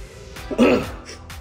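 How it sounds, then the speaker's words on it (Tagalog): A single short cough near the mic, a brief harsh burst with no talking around it. "Sorry guys na inuubo ko ngayon."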